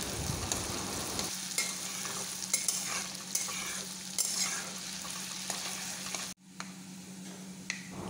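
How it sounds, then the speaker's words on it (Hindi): Onions frying in mustard oil for a chilli prawn dish, a steady close sizzle with scattered pops and crackles that briefly drops out near the end before resuming, no voices. "हम मस्टर्ड ऑयल में अच्छे से प्याज को फ्राई कर रहे हैं।"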